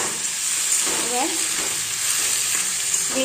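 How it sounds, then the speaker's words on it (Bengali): Blanched drumstick leaves with dried red chili fry in hot oil in a wok, a dense steady sizzle broken by a few scraping stirs, close and loud with no voices. "আমার সজনে শাক ভাজা হয়ে গেছে।"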